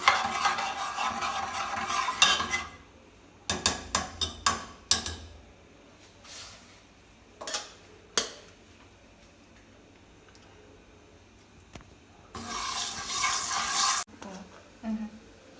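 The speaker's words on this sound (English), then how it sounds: "we're just gonna fry it in the oil a little bit to get the essence and the flavor" Curry powder fries in oil in a pot for Jamaican-style curry turkey neck, with bursts of sizzling interrupted by close scraping and stirring clatter of a utensil against the pot, fairly quiet overall.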